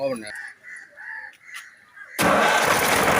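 A diesel tractor engine imported from London, fitted with meters and a gear system, cranks and starts. Its loud, dense roar bursts in suddenly and runs steadily after a stretch of nearby talking.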